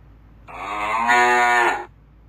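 A cow gives one loud, drawn-out moo lasting over a second, close and clear against near silence.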